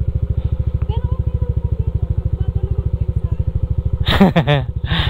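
A motorcycle engine idles with a steady rapid thumping putter throughout, close and loud; a voice briefly speaks over it near the end.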